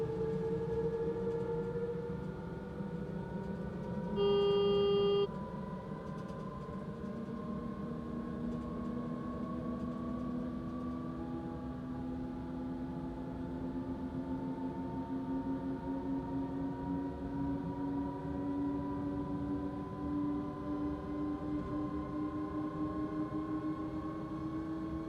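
Eurostar train in Train Simulator Classic on the London Waterloo to Fawkham Junction run, accelerating: a steady electric motor whine rising slowly in pitch over a constant rolling rumble, with a brief bright tone near the start.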